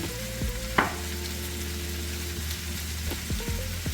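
Vegetables fry in a pan on a stovetop with a continuous close sizzle, broken by a few scraping stirs and a low hum underneath.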